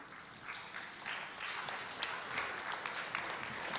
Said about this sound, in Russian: Под ваши аплодисменты все